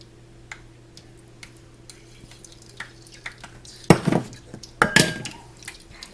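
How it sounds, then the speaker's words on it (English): Eggs being stirred into flour dough in a bowl, heard first as light ticking taps of the utensil, then two bursts of louder clattering scrapes against the bowl, all close by with no talking. "I'm just going to get this stirred up."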